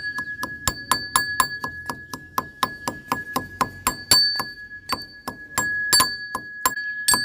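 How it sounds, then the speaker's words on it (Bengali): Neem leaves being crushed with steady, rapid pounding strokes, about three per second, each hit giving a sharp, ringing metallic clink, loud and close with no voices. "আমি এখন এই নিম পাতাগুলোকে থেতো করে নিচ্ছি"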